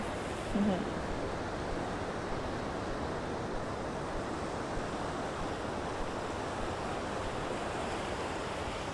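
Steady broadband surf of waves washing onto a beach near a lighthouse, continuous and fairly loud with some wind, no other distinct sounds over the roar.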